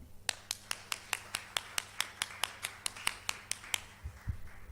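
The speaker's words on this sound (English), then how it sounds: "Big round of applause." A single pair of hands claps slowly and evenly, about sixteen crisp strokes close by at a steady beat after a conference keynote on multi-stakeholder action, before it stops and faint room noise follows.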